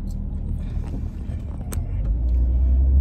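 Steady low road rumble and engine drone from inside a moving car, rising slightly in level toward the end, with faint cabin ticks and no talk.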